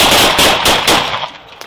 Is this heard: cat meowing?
no